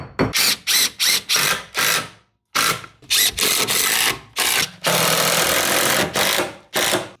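A power driver drives screws into Fisher wall plugs while an under-stairs cupboard is built at home, giving repeated loud, close whirring bursts of about a second each, separated by short pauses, with one longer sustained run.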